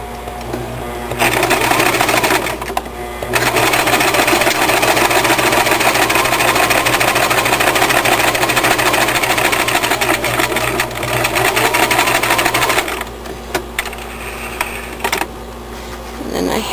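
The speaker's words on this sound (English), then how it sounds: "I'm going to stitch them together using a 1/4 inch" Close and loud, a sewing machine stitches quilt blocks with a quarter-inch seam in a steady buzzing run lasting several seconds, with short pauses at the start and near the end.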